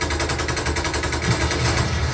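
Rapid automatic gunfire in the video game Just Cause 3, a dense continuous rattle of shots that stays loud and even across the whole moment, with no voices.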